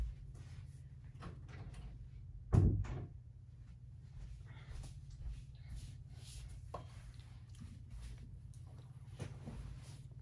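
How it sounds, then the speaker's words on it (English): A door is pulled shut indoors with a single sharp, solid thud, followed by quiet room sounds and a low steady hum. "I'm gonna close the door."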